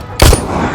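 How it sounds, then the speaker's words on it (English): A single sharp, loud gunshot from an officer's warning shot cracks close by, followed by a brief ringing, noisy decay. "the officer fired a warning shot directly"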